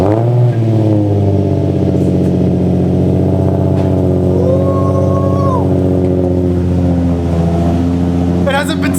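Nissan 350Z with its VQ engine, not run for a few days, cranking and settling into a loud, close, steady rumbling idle with a rise in revs partway through.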